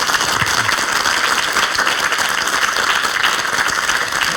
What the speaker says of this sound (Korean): 박수로 강의 청해 주세요.